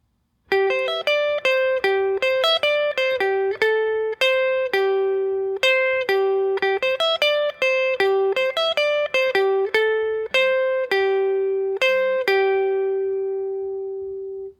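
A clean, bright guitar plays a riff as a rhythmic run of plucked single notes, mostly in a high register, close and alone. The last note rings out and slowly fades.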